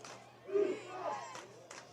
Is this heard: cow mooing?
no